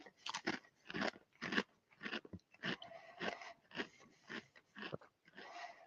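Close, crisp crunching as Pringles Carnitas Taco flavored stacked potato chips are bitten and chewed, about ten sharp crunches in an uneven rhythm, quiet and alone without talk.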